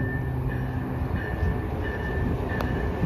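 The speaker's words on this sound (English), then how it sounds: "Train approaching." An Amtrak or MBTA train passing through Route 128 station, heard as a steady, loud rumble of rail noise with faint wheel squeal, continuous throughout.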